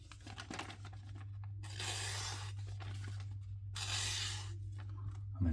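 A freshly sharpened knife sharpened on a KME Precision Control Plus slices through a sheet of paper in two clean, hissing strokes. Each stroke is close and crisp, a short steady rasp that drops back to quiet, over a faint low hum.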